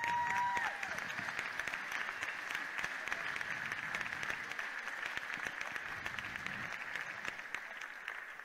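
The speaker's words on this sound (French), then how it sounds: "Donc vous pouvez vous applaudir." Applause from the audience at a French Latin dance championship finalists' parade, a dense continuous clapping wash that holds steady and fades slightly toward the end, heard from within the hall.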